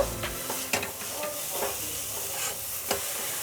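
Jaggery and coconut stirred together in a pan as a filling, with a soft sizzle under repeated scraping strokes of a spoon, close and moderately quiet.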